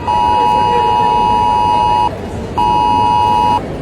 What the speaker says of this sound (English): Us British people received a national emergency to our phone